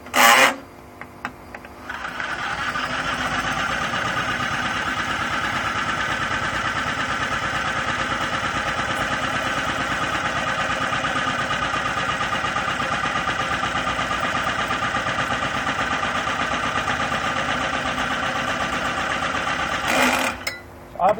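A 0.55 hp InSinkErator garbage disposal running on a 2.5 kW biogas generator, a loud steady motor drone and grinding hum after a brief start, continuing unbroken for about eighteen seconds before cutting off.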